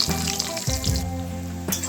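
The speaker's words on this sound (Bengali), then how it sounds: "চারটে মিডিয়াম সাইজের পেঁয়াজ আমি এইভাবে কেটে রেখেছি এটাকে দিয়ে দিলাম" Four medium onions, sliced, drop into hot oil with bay leaves and dried chillies, giving a close, steady frying hiss with brief bursts of sizzle as the pieces hit the pan.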